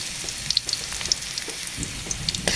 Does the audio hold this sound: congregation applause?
no